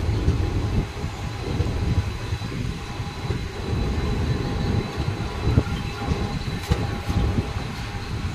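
A passenger train rolls along on a rainy, cold day, a steady loud rumble and rattle of the carriages heard from inside, with faint rhythmic clacks and no talking.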